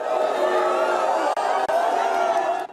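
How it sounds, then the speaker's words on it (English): A large crowd at a memorial ceremony jeers the Prime Minister with sustained loud shouting, whistles and booing voices blending into a continuous roar. "His Prime Minister jeered by crowds at a memorial ceremony."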